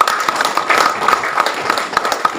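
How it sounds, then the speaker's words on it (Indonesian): An audience claps at a formal association meeting in Cilacap: dense, steady applause of many hands, fairly close and sustained throughout without a break. "Beri tepuk yang mulia."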